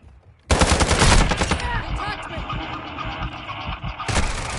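Gunfire in the video game Call of Duty Modern Warfare 2, a sudden loud burst of rapid automatic shots followed by sustained battle noise and another burst near the end.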